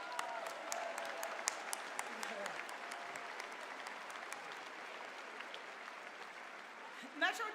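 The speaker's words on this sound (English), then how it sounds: "please stand up and let's give them a round of applause" Crowd applause at a JCC Maccabi opening ceremony in Detroit honoring steering committee members, a broad steady wash of clapping heard from a distance, fairly faint, with a few sharper claps near the end.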